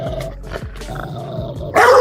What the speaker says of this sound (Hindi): Rottweiler dogs.